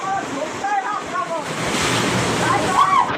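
Sea water surging into houses at Pajpandhari Koliwada makes a steady, rushing wash of surf that swells louder toward the end, with faint voices sounding intermittently over it.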